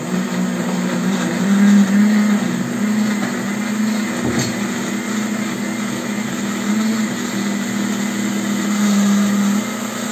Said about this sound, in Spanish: Ya que licuaron muy bien los ingredientes en la licuadora